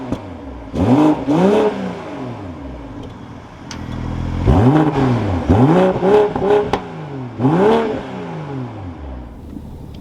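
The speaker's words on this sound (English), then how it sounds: "now inside the M440i, keeping my foot on the brake, we can go ahead and fire it up." A 2022 BMW M440i coupe's engine starts up with a rising whir and a revving roar, then blips loudly several more times in close succession before settling between revs.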